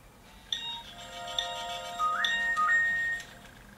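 A mobile phone receives an incoming text message sent from a glucose meter system, sounding a short electronic notification chime with a few bright tonal beeps and a rising two-step tone, clear and close in a quiet room.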